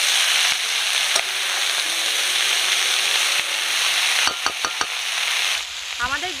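Greens stir-fry with eggplant, potato, green chilli, onion and garlic in hot oil, giving a loud continuous sizzle close by, with scraping stirs, a few sharp utensil clicks near the end and a brief voice.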